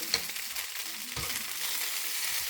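Shrimp stir-frying in a pan, a steady bright sizzle with a few scraping stirs, fairly close and with no voices.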